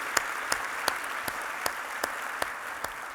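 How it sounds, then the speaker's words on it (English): Audience applause at an awards event, a steady dense wash of clapping hands filling the room, with a few sharper claps standing out at regular intervals. "Let's give Laurie and her team another round of applause"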